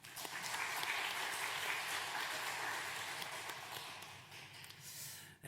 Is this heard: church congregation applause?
yes